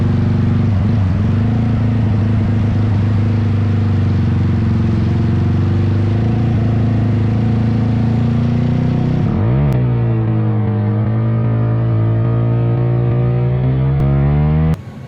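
A motorcycle fitted with a 14-tooth front and 42-tooth rear sprocket set roars nearby under hard acceleration, its engine note climbing through the gears before it shifts and pulls again, loud and continuous.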